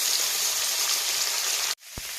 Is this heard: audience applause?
no